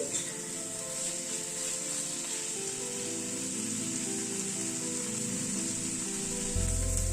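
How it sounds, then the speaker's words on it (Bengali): Fried potatoes tossed back into a pan with a special roasted spice mix and sautéed for a minute or two, giving a steady, close sizzling hiss that holds evenly throughout with no talking. "এই ভাজা আলুটাও দিয়ে দিচ্ছি। সবকিছুকে দিয়ে আবার একটুখানি 1-2 মিনিট একটু কষিয়ে নিচ্ছি।"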